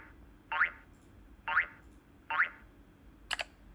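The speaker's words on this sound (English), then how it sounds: "Then I'm gonna cut this boink sound right about there." Three springy cartoon boink effects bounce in evenly spaced, with a brief sharper hit at the end, all close and clear over a quiet background.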